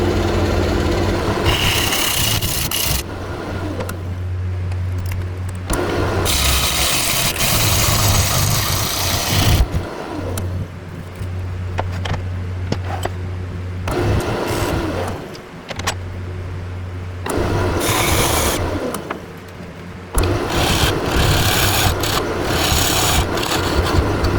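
A wood lathe turns corkscrew willow as a tool cuts it, giving a steady motor hum under rough, scraping bursts that stop and restart several times over about 24 seconds.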